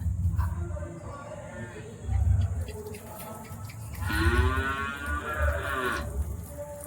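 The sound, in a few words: cows mooing in the cattle shed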